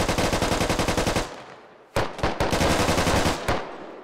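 Gunfire in the tactical shooter Squad, a fast loud automatic burst of rapid rhythmic shots, a short pause, then more bursts and single heavy cracks up close.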